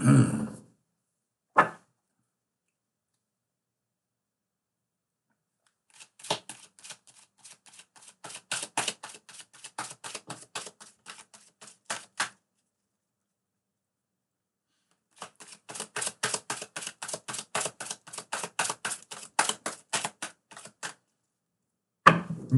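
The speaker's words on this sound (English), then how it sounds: "Cards are well shuffled." A deck of reading cards being shuffled in two long bursts of dense riffling clicks, close and fairly loud, with a couple of short taps at the start and end and no talking.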